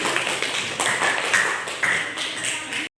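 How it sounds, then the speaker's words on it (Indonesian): Students in a classroom applaud a presenting group, a steady wash of many hands clapping at close range, with a little talk mixed in. "Silakan untuk beri tepuk tangan dulu untuk kelompok 4."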